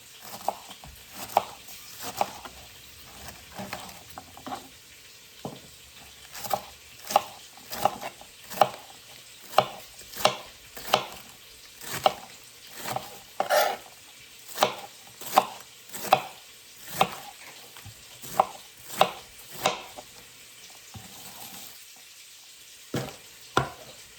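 Cabbage and smoked sausage chopped with a knife on a board, a steady run of sharp, close knocks about one per second, with no talk.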